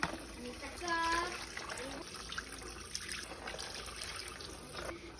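Lumyagan fish being rinsed under running water in a kitchen, a steady trickle and splash of liquid with brief bright clinks near the start, while someone talks over it.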